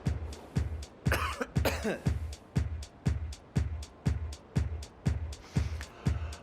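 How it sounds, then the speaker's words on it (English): Repeated coughing in the video game Hitman, in a steady rhythm, about two coughs per second, each short and punchy, with a harsher throat-clearing burst early on. "Cough, please."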